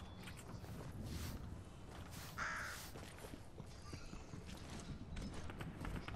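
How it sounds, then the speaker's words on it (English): A bird caws a few times in Fortnite No Build gameplay, set against quiet game ambience, footsteps and movement sounds, with soft talk in the background. "I see a bird."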